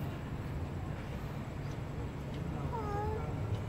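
A faint cat meow rises briefly near the end over a steady background hiss and low rumble.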